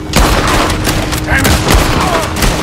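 A loud, dense volley of rifle and pistol shots in a Red Dead Redemption 2 shootout, sharp cracks overlapping in quick succession with voices shouting amid the fire.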